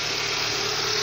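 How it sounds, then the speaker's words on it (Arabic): A car engine idles while shaking and vibrating at startup and at rest, a continuous steady mechanical hum and rumble heard close up, alone without voices. "الموتور يذبري"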